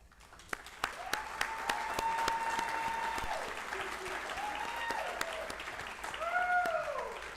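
A room at a school district board of trustees meeting applauds a volunteer, with scattered sharp claps at first and then a sustained moderate round of clapping mixed with rising and falling whoops and cheers.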